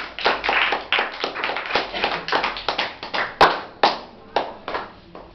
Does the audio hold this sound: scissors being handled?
no